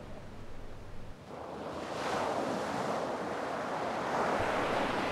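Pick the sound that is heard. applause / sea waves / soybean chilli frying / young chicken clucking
sea waves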